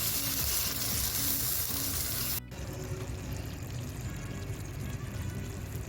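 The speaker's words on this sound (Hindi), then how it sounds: "और अब इसके साथ इसकी अच्छी तरह से भुनाई कर लीजिए।" Masala gravy roasting in oil in a pan for nargisi chicken kofta curry, a loud dense sizzle that dips sharply for a moment and then carries on steadily.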